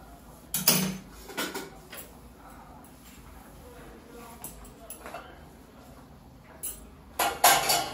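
Kitchen cleanup after cooking brings scattered clinks and clatters of dishes and utensils in a few separate bursts, with quieter gaps between them.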